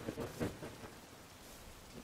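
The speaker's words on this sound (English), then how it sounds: "It's raining, you know, kinda." Rain falls steadily with low rumbles of thunder, a soft, muffled wash with a few heavier swells early on and no voices.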